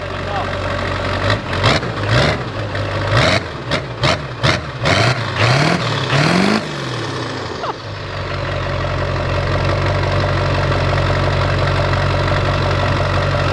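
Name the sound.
Chevy Duramax diesel engine running and revving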